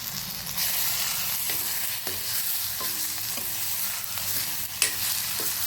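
Stuffed eggplants fry in a pan with onion, making a steady close sizzle broken by a few sharp spatula taps and stirring scrapes.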